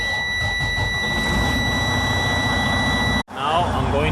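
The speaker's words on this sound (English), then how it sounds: "I'm going to start the engine." A Freightliner Cascadia truck's DD13/DD15 diesel engine runs steadily and loud with a high, droning whine, cutting off for a split second before carrying on just as loud.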